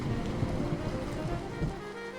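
Rain falls steadily over a city at night, a dense, continuous wash of droplets with a low rumbling undertone, even and unbroken, with no voices.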